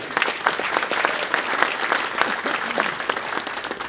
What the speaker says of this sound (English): Let's give them one more round of applause for the group.